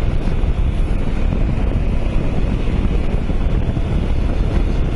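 Constant wind rushes and flutters loudly through the mesh vents of a motorcycle jacket while riding a Mondial Rx3i Evo, a dense, steady roar without pauses.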